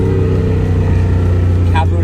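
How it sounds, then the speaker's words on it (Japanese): A classic Nissan Skyline Hakosuka with a carbureted inline-six L-type engine runs with a loud, steady low drone and dry exhaust tone, recorded close and continuous, with a brief higher sound near the end. "こういう直6の L 型エンジンの独特なサウンドなのかな。"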